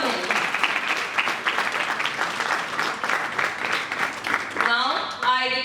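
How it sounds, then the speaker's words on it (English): Audience applause for a school debate competition speaker, a steady wash of many hands clapping in a hall, with a voice starting to speak over it near the end. "Please clap for him."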